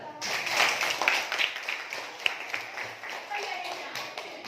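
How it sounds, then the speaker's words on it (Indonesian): Classroom students clap together during an Islamic religious lesson at school, a dense, busy patter of many hands that continues through the clip with a noisy room behind it. "Tepuk tangan"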